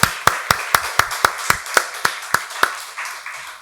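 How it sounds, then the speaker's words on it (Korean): A church congregation claps in unison during a Sunday worship service, about a dozen sharp, evenly spaced claps that slow slightly and fade out, with no talk over them. "박수로 하나님께 영광 돌리겠습니다."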